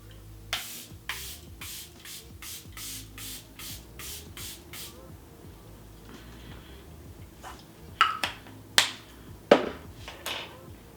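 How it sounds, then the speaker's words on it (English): Setting spray is misted onto a face in a quick series of about nine short pumped hisses, close and fairly quiet, followed by a pause and then a few louder clicks and taps of handling the bottle. "I'm gonna spray my face and then I'm gonna do lips."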